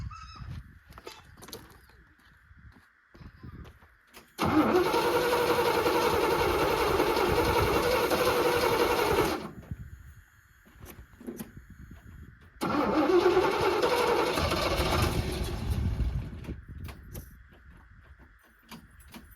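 An old cheap truck engine cranks with a rough mechanical drone in two long bursts separated by a pause, loud and close, against a steady high-pitched background hum.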